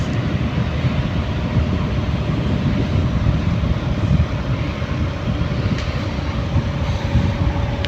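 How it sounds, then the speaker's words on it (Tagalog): A noisy air conditioner unit runs with a loud, steady broadband drone and a constant tonal hum, unchanging across the whole stretch with no pauses. "Pakinggan natin yung ingay ng aircon."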